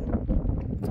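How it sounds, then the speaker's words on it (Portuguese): Strong wind at high altitude in the Reserva Eduardo Avaroa in Bolivia, a steady broadband roar buffeting the microphone throughout, loud and continuous with no other sound. "Muito vento."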